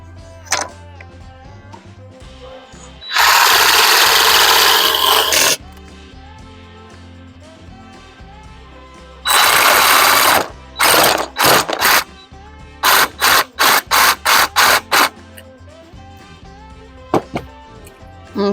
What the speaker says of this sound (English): I'm going to take the jigsaw and cut out that section and that section